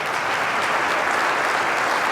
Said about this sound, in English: And cue more applause.